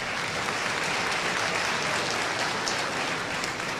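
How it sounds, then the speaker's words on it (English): Steady, even applause from a large crowd at a high school graduation ceremony, a soft, continuous wash of many hands clapping at a distance without any voices over it. "Let's give these young men and women a round of applause for their hard work one more time."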